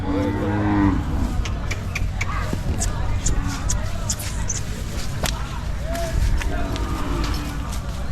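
At a Sunday Hallikar cattle market in Jodugatte, a cow lets out a deep, drawn-out moo near the start, heard over steady crowd noise and close conversation throughout.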